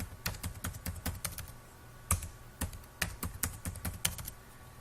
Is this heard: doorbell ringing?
no